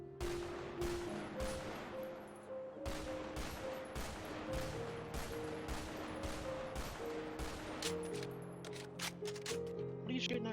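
Video game gunfire rattles in repeated quick bursts of sharp shots over a constant background of game sound and tones, moderately quiet overall.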